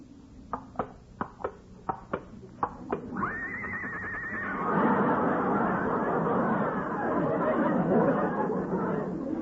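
A horse with a cold whinnies loudly and at length, its shrill neigh wavering up and down, after a few sharp knocking sounds at the start.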